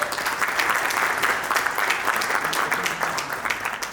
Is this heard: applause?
yes